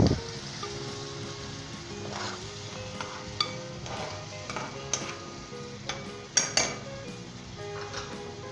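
Ingredients for achari pulao stirred in a pot with a spoon, soft scraping and occasional clinks against the metal over a faint sizzle, close and fairly quiet, no talking.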